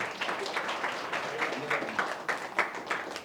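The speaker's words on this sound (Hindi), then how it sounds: "बिल्कुल सही है, जोरदार तालियां।" Audience at a Buddhist vihara gathering claps in a steady burst of applause, moderately loud and continuous with irregular sharp peaks, heard in a hall setting.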